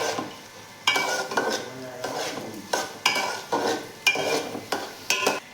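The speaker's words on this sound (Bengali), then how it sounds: "পনির, কাজু, কিশমিশ ভেজে রেখেছিলাম সেগুলো দিলাম, দিয়ে এগুলোকেও ভাজবো ভালো করে।" Paneer, cashews and raisins fry in a pan for pulao, with a continuous sizzle broken by a rhythmic series of loud scraping stirs from a spatula against the metal.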